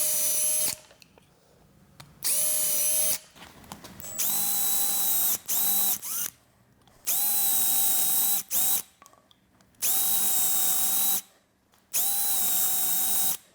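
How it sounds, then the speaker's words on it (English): Power drill boring holes through a double nail pad held by a set screw, running in repeated loud bursts of steady whine with short pauses between each hole. "I'm going to go ahead and drill each one of these holes"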